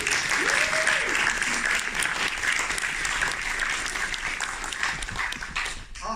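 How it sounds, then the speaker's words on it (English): A film festival audience at a Q&A bursts into sustained applause, thick and continuous clapping that slowly thins toward the end, with a brief voice or whistle near the start. "Yeah, round of applause."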